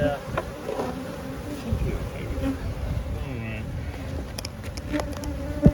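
Honey bees buzz steadily around a hive entrance, a close, continuous drone with individual bees passing near, while people talk quietly in the background.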